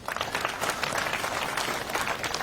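A crowd of students applauding at Kenyatta University, dense continuous clapping at moderate volume throughout, sounding like a sizeable audience in a hall.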